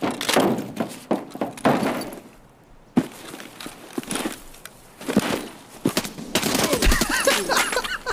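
Gunfire in Escape from Tarkov: close, loud bursts of shots and sharp impacts in irregular clusters, with a brief lull partway through before heavier firing resumes.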